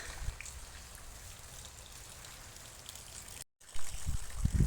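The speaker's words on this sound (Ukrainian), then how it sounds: "Дощик рясний, дуже гарний дощик і вийшла веселочка." Heavy rain falls steadily as a broad, even hiss throughout, briefly cutting out before louder low rumbles and thumps near the end.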